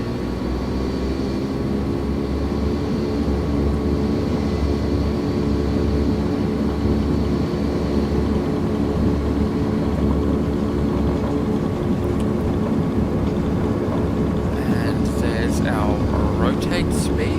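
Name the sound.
aircraft engine at full throttle for takeoff, from a flight simulator video game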